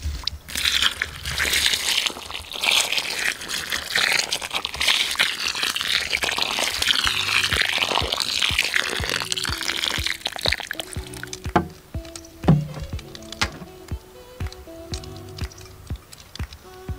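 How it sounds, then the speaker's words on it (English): Water pours onto freshly planted gladiolus bulbs in soil, a continuous splashing stream for about ten seconds that then gives way to scattered drips and soft crunching taps. "make sure you water as soon as you plant."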